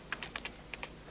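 Quick keystrokes on a computer keyboard while entering a spreadsheet label: about six light, crisp clicks in a short burst, close and quiet, with no talking.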